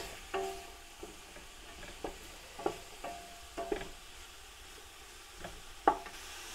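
Vegetables cooking in a pot for a traditional Bulgarian monastery stew, a soft low sizzle under occasional light taps and scrapes of a stirring utensil, quiet and close with no talking.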